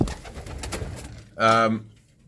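A domestic racing pigeon gives one short, close coo right after a burst of rustling and background noise.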